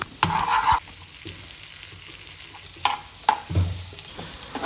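Finely chopped garlic and green chili fry in a pan, with short bursts of sizzling and the scrape of stirring separated by quieter stretches.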